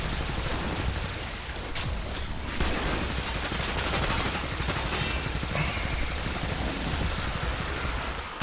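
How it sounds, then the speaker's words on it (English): Rapid sustained gunfire from a rifle in the Warframe video game, a dense continuous rattle of shots filling the whole stretch at close range, with almost no talk. "I'm just gonna shoot this bitch."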